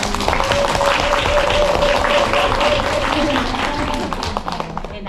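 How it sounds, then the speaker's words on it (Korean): Audience at an education conference's case-sharing session applauds steadily for several seconds, a dense wash of clapping at moderate loudness that thins toward the end. "박수 한번 주세요"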